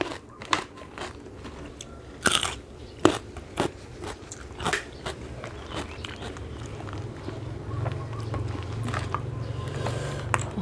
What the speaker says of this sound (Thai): กระดองปูซดน้ำซดน้ำยำด้วยกระดองปู